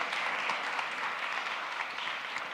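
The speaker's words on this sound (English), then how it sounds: "Now, I think we should give another round of applause for all the people that were on stage until this moment." Audience at a climate change summit's green stage clapping for the people who were on stage, a steady, fairly faint wash of many hands heard from a distance.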